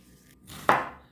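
A knife cuts through a leek halved lengthwise on a board, giving a single sharp, close chop that follows a brief rustle.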